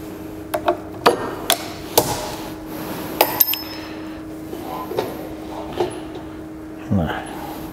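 A pendulum impact testing machine strikes a test specimen, with the impact energy around 65 joules. Sharp metallic knocks and clinks recur at irregular intervals over a low steady hum in a lab setting, with faint background voices.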